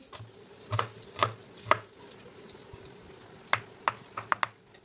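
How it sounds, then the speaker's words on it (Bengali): A knife chops a large onion on a board in a kitchen. Sharp, separate blade strikes come in short irregular bursts, fairly close and quiet, with pauses between them. "এখানে আমি একটা বড় সাইজের পেঁয়াজকে একেবারে কুচি কুচি করে কেটে নেব"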